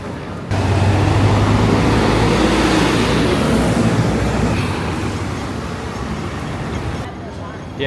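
Old double-decker electric tram in Hong Kong rumbling loudly nearby as it slows toward a stop, a steady low hum with busy traffic noise, and a voice talking over it.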